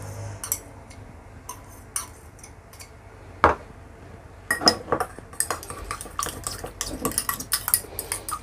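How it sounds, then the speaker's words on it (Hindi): Aloe vera gel mixture being stirred in a container, with a utensil clinking and scraping against the sides in irregular taps, sparse at first and then a busier run of quick knocks. "और नॉर्मल एलोवेरा के जेल को हम इस तरह मिक्स कर लेंगे"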